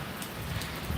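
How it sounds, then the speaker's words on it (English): Steady rain drumming on the body of a car during a downpour, a constant close hiss without pauses or speech. "It's getting rained on."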